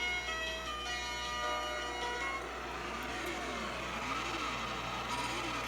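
Synthesized car engine sound from a 1990 Jaleco Cisco Heat arcade racing board, held at full throttle with the accelerator jammed, a buzzy electronic drone that warbles up and down in repeating sweeps beneath a constant steady hum.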